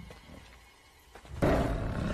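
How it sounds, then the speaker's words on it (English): A lion in an arena roaring amid action, a sudden loud, deep roar bursting in after a quieter, rumbling stretch and holding strong to the end. "the lion, you see, father?"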